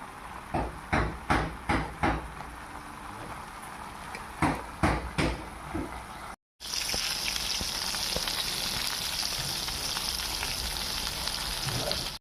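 Broccoli with chili powder fries in a pan: a few sharp knocks of a spoon against the pan, then a steady loud sizzle continuing to the end.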